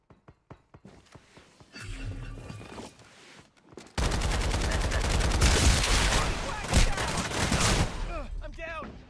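Gunfire in a battle royale video game: scattered shots at first, then dense sustained automatic bursts with loud game effects, and some voice in the background.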